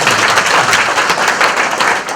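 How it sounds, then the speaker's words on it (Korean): Delegates at a regular assembly clap together in a dense, continuous burst of applause, loud and close throughout. "박수 한번 해주시죠"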